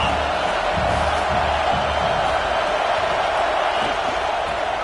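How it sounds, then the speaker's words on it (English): Dense, sustained roar of a football stadium crowd at a UCLA game cheering as the defense holds near the goal line, a broad steady wash of voices with no distinct peaks. "This crowd knows this defense needs them right now."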